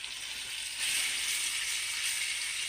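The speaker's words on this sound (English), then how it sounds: "I'm gonna go ahead on and fry this in this bacon grease" Meat fries in bacon grease in a pan, a soft, steady sizzle close by that swells a little after the first second and then holds even.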